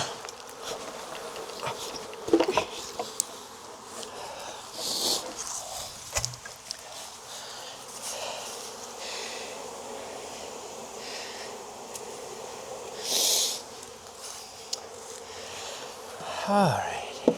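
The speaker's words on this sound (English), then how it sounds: "The shake on some of these bees." Honey bees hum around a swarm trap in a Jacksonville, Florida yard, a steady buzzing with individual bees swelling loud as they pass near, while a person talks quietly at times.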